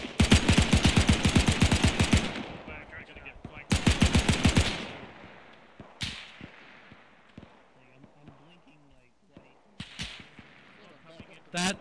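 G43 rifle fire in a video game battle: two long, rapid volleys of sharp, loud shots, then scattered single cracks and distant reports, with voices talking quietly underneath.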